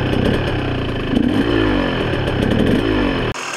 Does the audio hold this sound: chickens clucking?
no